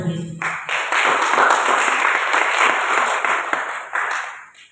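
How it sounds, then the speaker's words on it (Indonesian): A church congregation bursts into loud, sustained applause that continues evenly for a few seconds before fading slightly. "Tepuk tangan buat Yesus."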